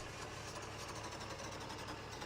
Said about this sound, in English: we're going to stall the engine